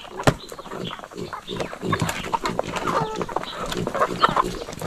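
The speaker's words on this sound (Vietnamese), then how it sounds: "Gà ăn rất là mạnh nhé, cả vịt nữa." Chickens and ducks feeding outdoors in the wilderness, a dense close chorus of clucking, soft quacks and pecking noises running continuously throughout.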